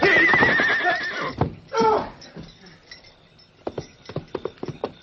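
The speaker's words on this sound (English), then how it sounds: "His horse tripped and fell." A loud horse whinny rings out up close after the horse trips and falls, then fades into scattered hoof thuds and clinks, in an old-time radio drama.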